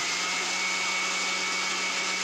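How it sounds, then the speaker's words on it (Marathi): A mixer grinder whirs loudly and steadily, grinding sorghum (jowar) coarsely for homemade poultry feed, a constant high motor drone with no pauses. "मिक्सर ग्राइंडरमध्ये टाकून तिला करमरा करणार आहोत"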